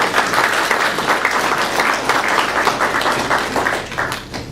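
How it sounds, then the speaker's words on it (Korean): Applause fills a church certificate ceremony, a dense, steady crowd of clapping hands sustained for several seconds without pause. "우리 한번 박수 한번 치셔야 되겠습니다"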